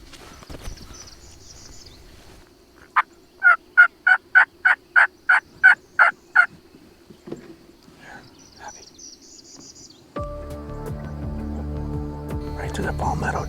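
Wild turkeys near decoys in palmetto cover on a spring hunt let out a rapid burst of about ten loud, close gobbles, followed by quiet rustling and then a steady broadband rumble.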